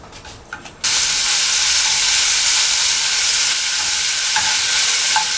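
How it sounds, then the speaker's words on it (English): Bacon and onions fry in a pan, a loud, steady, close sizzle that starts abruptly and hisses on without pause, with a couple of faint clinks near the end. "Right now I'm going to be frying up the bacon and the onions."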